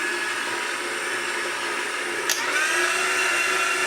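Electric mixer whirring through cranberry orange bread batter, a steady high-pitched motor whine at close range with a brief clatter partway through, no talking.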